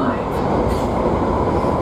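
Loud, steady interior rumble of a train bound for the Heathrow terminals, a dense, continuous roar of wheels and motors heard close up for a couple of seconds.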